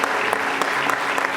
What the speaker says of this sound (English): one more applause for Ms. Felder.